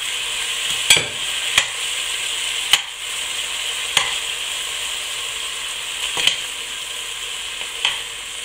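Pork pieces brown in a pan, giving a continuous close sizzle broken by several sharp clicks and scrapes from stirring at irregular intervals.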